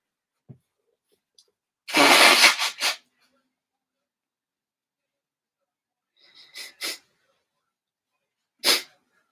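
A person sneezes loudly and close by, a sharp burst followed by a couple of quick trailing bursts, with a few fainter sniffs and small noises later in an otherwise quiet room.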